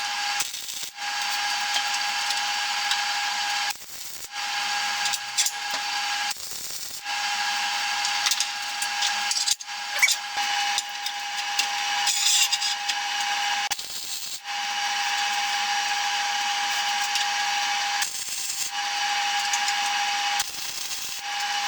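A MIG welder lays small tack welds while building a metal rolling workbench, a hissing, crackling buzz in a series of short bursts separated by brief silent pauses, fairly close and without talk.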